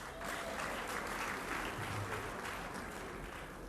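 An audience at a lecture in Nsukka applauds a prize announcement with sustained, evenly dense clapping that fills the hall at a moderate level, with no talking over it.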